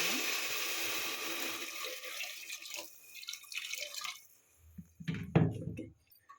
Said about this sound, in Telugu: ఇప్పుడు మనం సరిపడా వాటర్ వేసుకుందాం